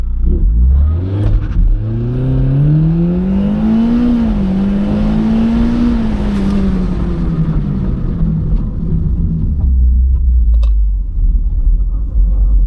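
Car launching hard from a foot-brake start with a torque amp engaged and no launch control, a loud rising engine whine and rumble that climbs in pitch, dips and swells over about nine seconds before settling.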